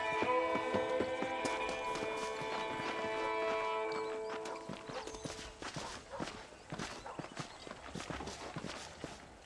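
Horse hooves clip-clop in Red Dead Redemption in a quick rhythmic walk, close and clear, over sustained musical tones that fade partway through, leaving the hoofbeats alone.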